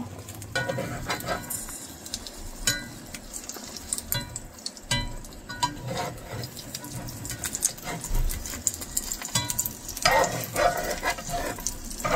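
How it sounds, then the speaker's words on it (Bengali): An egg frying in hot white cooking oil in a pan for a Korean-style omelette, an uneven crackling sizzle with spatula scrapes and knocks, close and busy throughout. "তেলটা একটু গরম গরম হলেই দিয়ে দিচ্ছি ডিম"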